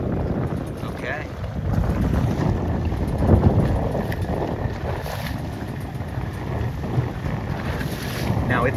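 Wind rushes over a racing dinghy at sea in choppy water, a loud continuous roar of gusts buffeting the microphone with waves washing beneath it.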